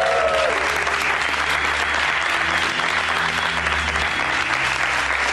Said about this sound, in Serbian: Dame i gospodo, gromki aplauz